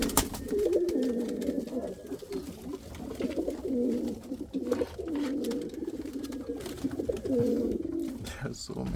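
Indian fantail pigeons coo in repeated low, throaty, rolling phrases close by, almost without pause, with occasional soft rustles and clicks between the calls.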